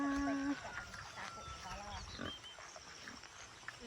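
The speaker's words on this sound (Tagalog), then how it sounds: "Nandito na ang baboy ni mama." A farm pig grunts a few times close by amid rural outdoor ambience, short rough snorts scattered through the stretch, with a voice briefly present in the background.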